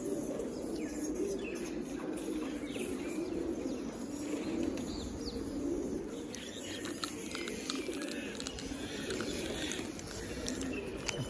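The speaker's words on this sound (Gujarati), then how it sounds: "તમે અવાજ સાંભળી રહ્યા છો મિત્રો, એ બધો પક્ષીઓનો છે," Many birds, including cooing pigeons or doves and chirping songbirds, call together steadily at the Vijli Baru site in Mahuva, a dense, continuous chorus close by with no talk over it.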